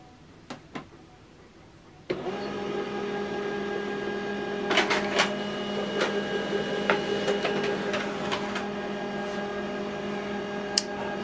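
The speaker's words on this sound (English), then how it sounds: "okay, it's printing." An HP LaserJet Pro M28w printer starts up with a thump, then runs with a steady mechanical whir and hum, marked by scattered clicks and ticks as paper feeds through, close and moderately quiet.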